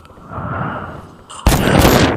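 A sharp gunshot going off in Free Fire, a headshot in a mobile battle royale game, landing as a loud broadband burst with a short blast tail after a quieter stretch of game ambience.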